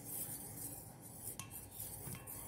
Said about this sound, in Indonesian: Kita aduk perlahan dengan whisker sampai semua bahannya tercampur rata.